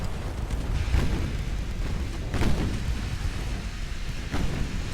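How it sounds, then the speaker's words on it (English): Torpedo detonation in the naval battle game Ultimate Admiral: Dreadnoughts, heavy rumbling booms with a few distinct blasts amid continuous low battle noise. "Torpedo detonation."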